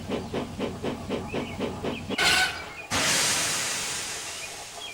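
A big green steam engine pulls into a station platform, rhythmic chuffing giving way to a loud, sustained hiss of steam that fades slowly; close and loud, with no talking.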